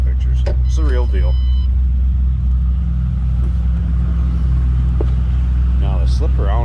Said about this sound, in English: you can hear this car has a nice throaty exhaust to it